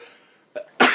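A single sharp, explosive sneeze bursts out after a faint catch of breath, close and loud.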